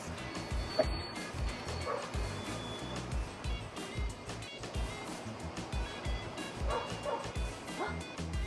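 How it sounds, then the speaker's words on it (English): Repeated dog barks and yips sound at a moderate distance, spread across the clip over continuous background noise and scattered clatter. "Is that another doggy?"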